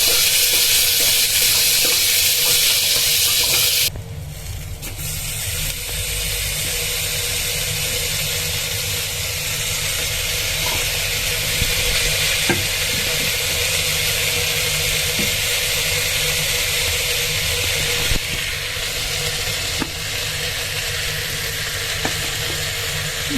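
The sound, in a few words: stirring peas and carrots frying in a pan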